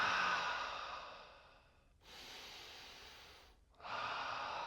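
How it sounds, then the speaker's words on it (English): Slow, audible breaths during a seated easy-pose yoga stretch: a long exhale fades out, a quieter breath follows, then another strong breath begins after a brief pause. "Breathing."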